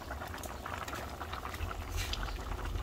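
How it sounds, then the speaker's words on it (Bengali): A pot of radish curry boils at a rolling simmer, its bubbling and popping steady and close by, with no voices over it. "আমাদের মূলোর তরকারিটা বলক উঠে গেছে।"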